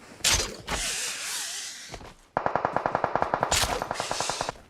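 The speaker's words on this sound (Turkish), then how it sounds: "Adam oradan sıkarak burayı deldi." PUBG Mobile gunfire: a couple of loud, noisy blasts come first, then a tight, rapid string of about eighteen automatic shots rattles out at close range, with no talking over it.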